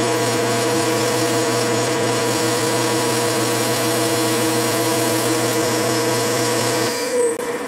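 A VEVOR drill bores through metal with a 1.5 inch annular cutter, a steady loud whirring grind with a constant motor hum that runs unbroken before tapering off at the end, with no talk.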